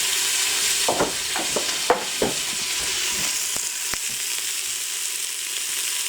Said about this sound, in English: season that beef that's browning with your salt and black pepper.